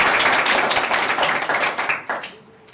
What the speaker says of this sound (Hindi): इसके लिए एक बार फिर तालियां।